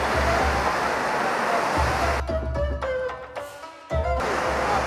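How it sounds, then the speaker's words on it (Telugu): Ocean surf rolls in at RK Beach in Visakhapatnam at night as a steady broad roar of breaking waves, which briefly thins and drops out toward the end before returning. "ఇది ఆర్కే బీచ్, వైజాగ్."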